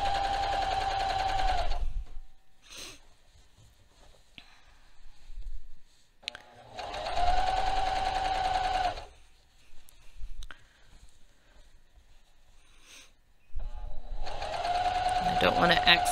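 A cover stitch sewing machine stitches a fabric hem in three loud, fast, close bursts of rapid whirring, with quiet pauses between runs where a person speaks.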